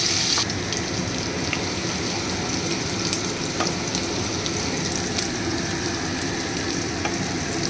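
Onions frying in a pan for a flat noodle dish give off a steady, close sizzle with occasional stirring scrapes, continuous and alone throughout with no talk.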